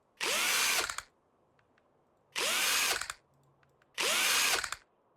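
A power drill unscrews a car part in the video game Car Dealer Simulator, with three loud, separate whirring bursts of about a second each and short quiet gaps between them.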